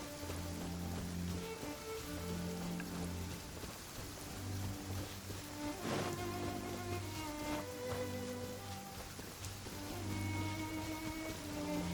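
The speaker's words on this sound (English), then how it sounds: "It's raining." Steady rain falls in Genshin Impact, a continuous wash of drops under game music with soft recurring tones and a brief swell near the middle, no talking.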